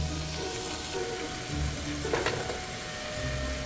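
Browned meat fries in a soup pot with a steady close sizzle, broken by occasional scraping stirs against the pot.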